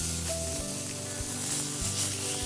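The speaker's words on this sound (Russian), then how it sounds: "И обжариваем говядину со всех сторон очень быстро." Beef tenderloin searing in a smoking-hot frying pan gives a steady, close, loud sizzle that runs without a break, with no talking over it.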